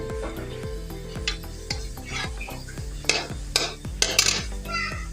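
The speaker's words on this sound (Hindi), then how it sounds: "पहले मैंने चिकन फ्राई करना है" Chicken frying in a pan over a lit flame, with a steady sizzle broken by repeated scraping stirs and a few sharp metallic clinks of a utensil against the pan.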